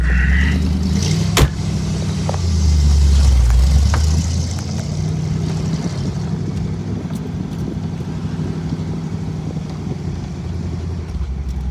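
A 1961 Corvette engine runs with a low, steady rumble after exhaust gasket repair, swelling briefly early on before settling into an even drone, with a few sharp clicks.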